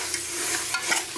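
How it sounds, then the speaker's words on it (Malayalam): Tomatoes sautéed with salt in a pan give a dense, continuous close sizzle, with quick spatula scrapes rising through it and no voices. "പെട്ടെന്ന് വഴന്ന് വരുന്നതിന് വേണ്ടി നമുക്ക് ഇതിലോട്ട് കുറച്ച് ഉപ്പൊക്കെ ചേർത്തിട്ട് വഴറ്റിയെടുക്കാം"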